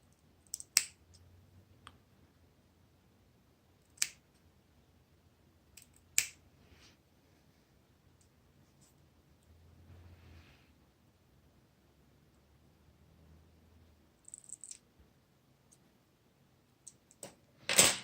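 Trimming a builder-gel nail: a handful of sharp, close clicks spaced irregularly, with quiet pauses and faint rustling between, then a small cluster of snips at the end.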